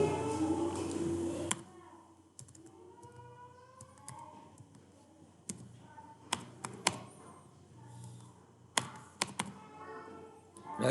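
Sparse keystrokes on a computer keyboard sound in short clustered bursts of light clicks and taps, close and quiet, after a brief opening stretch of low background sound.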